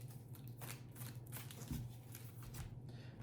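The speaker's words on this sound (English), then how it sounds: "so I'm doing a healthy shuffle." Brisk papery riffling of playing cards in quick bursts, close to the microphone over a low steady hum.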